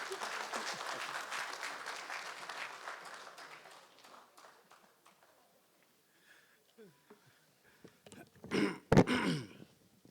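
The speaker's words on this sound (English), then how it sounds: "A round of applause for him." Audience applause for a distinguished engineering lecturer at a Nigerian Society of Engineers lecture, broad and steady for about four seconds, then fading into quiet rustles, throat clearing and a brief loud bump near the end.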